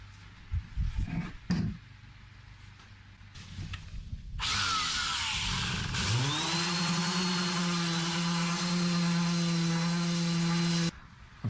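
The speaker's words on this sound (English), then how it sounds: "now I'll go through a few different types of sanders and some hand sanding" A power sander whirs steadily on a wooden guitar body for several seconds after a few short knocks and handling sounds, then cuts off abruptly.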